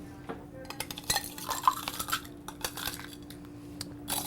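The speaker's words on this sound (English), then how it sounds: "We're going to fill our glass with the crushed ice." Crushed ice being scooped and poured into a cocktail glass for a tiki swizzle, giving a run of close, light clinks and rattles over about four seconds with no talking.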